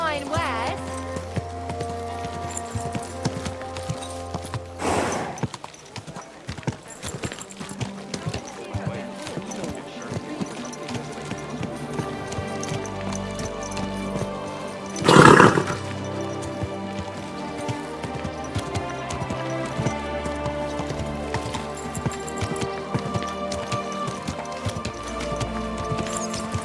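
Horse hooves clip-clopping at a slow walk in Kingdom Come: Deliverance II, steady rhythmic hoofbeats under a bed of game music, with one loud thud partway through and speech mixed in.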